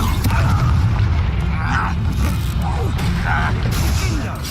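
A Confringo spell explosion from Hogwarts Legacy booms loudly over dense battle noise, with several bursts and a constant rumbling bed.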